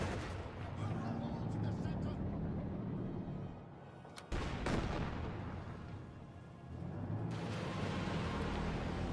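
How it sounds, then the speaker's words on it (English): Rocket barrage in the Company of Heroes 2 battle game, a Katyusha volley of loud booming launches and blasts filling most of the stretch, with a brief lull midway before the rumbling fire resumes. "Katyusha barrage flies."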